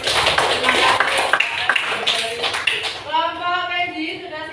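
Students in a classroom clapping in a short, uneven burst of individual hand claps with voices mixed in, then the claps fade and a single voice carries on alone.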